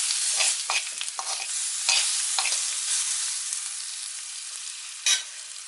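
Garlic and thyme hitting hot curry powder in a pan, a bright sizzle with bursts of frying hiss and stirring scrapes that gradually settle, one sharp spike near the end, no voices.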